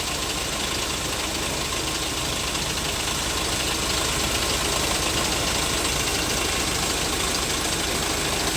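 Sinotruk forward dump truck with a YC4D130 diesel engine, which had been overheating at low RPM, runs steadily after injector work, a loud, close, unbroken mechanical drone with no talk.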